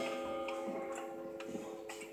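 Antique clocks from around 1870 ticking in a 1921 house, a sparse, regular series of faint ticks over a steady low hum, with no one speaking.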